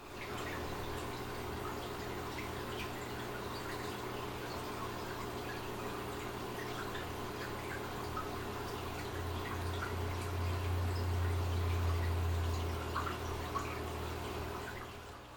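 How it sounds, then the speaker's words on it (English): Steady, gentle rush of water moving through aquarium filters, including a canister filter, with the soft continuous hum of a small air pump underneath, unbroken and fairly quiet throughout. "There's one small air pump kind of over there that is on. You'll probably hear that a little bit. And then other than that, it's water movement from all the other filters."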